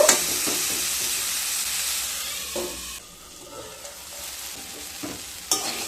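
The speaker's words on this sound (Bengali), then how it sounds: "কুমড়োগুলো দিয়ে আবারও খুব ভালো করে মিশিয়ে মিডিয়াম টু লো ফ্লেমে আবারও ভেজে নেব" Bitter gourd and pumpkin pieces stir-fry in a pan on a medium-low flame, a steady close sizzle with repeated spatula scrapes and clacks, the frying quieting briefly midway before picking up again.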